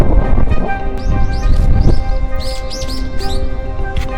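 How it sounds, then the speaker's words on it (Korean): Birds chirping in short repeated calls above a steady low rumbling wash at a rainy, snowy Jeju Island campsite in March; the deep rumble may be thunder, with chirps scattered through the second half. "천둥 번개 새소리까지."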